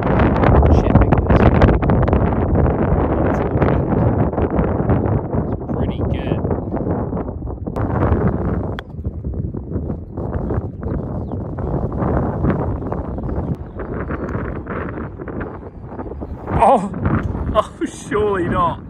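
Strong gusting wind buffets the microphone on the Eden Course golf links at St Andrews, a loud, constant roar of rushing air, with golfers talking over it throughout.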